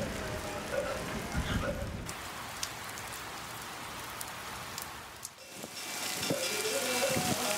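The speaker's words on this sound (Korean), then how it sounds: "고요한 산사를 채우는 거친 빗소리" Steady, heavy rain hisses at a mountain Buddhist temple across the whole stretch, dense and close, with a brief dip in intensity partway through before it surges back.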